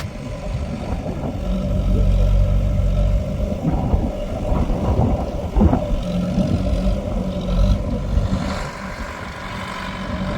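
A tractor engine runs steadily on a farm field, a continuous low rumble with fluctuating mechanical noise and occasional rattles throughout, fairly close and loud with no talking.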